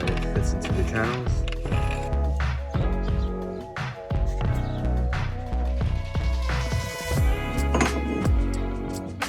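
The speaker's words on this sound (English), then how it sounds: "We're gonna go ahead and use the bolts that were included and go ahead and tighten away." Ratchet clicking as included bolts are tightened to mount Smittybilt awning brackets on a 5th Gen Toyota 4Runner, a busy run of metallic clicks and clunks close by, layered with ongoing mechanical handling noise.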